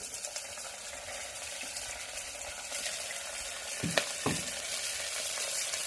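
Curry leaves, onion and green chilli fry in a pan with a steady, moderate sizzle, and a couple of brief stirring scrapes come near the end.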